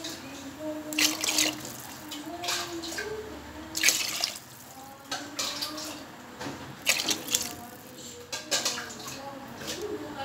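Water poured from a tumbler into a cooking pot while making bisibelebath, several separate splashy pours in bursts with quieter gaps between them.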